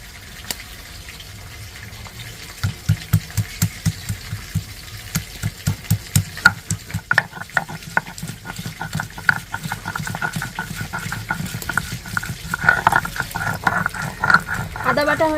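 Fresh ginger is ground into paste by hand for a vegetarian potato curry, giving a steady run of rhythmic scraping and knocking strokes that grow busier and louder over about fifteen seconds.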